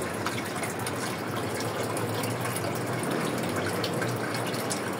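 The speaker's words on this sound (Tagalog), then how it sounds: "yan, tumutulo." Water running from a tank's float valve during testing: a steady rushing, splashing flow of liquid into the tank, close and continuous, with no talk.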